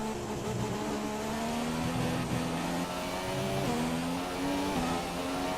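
Formula 1 cars in the F1 2017 game race at the Japanese Grand Prix, engines screaming at high revs with pitch steps at gear changes, a continuous loud whine throughout.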